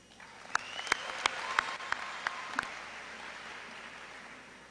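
Steady applause from a high school graduation audience, a dense wash of clapping with several sharp, louder claps standing out near the start before it settles into an even roar.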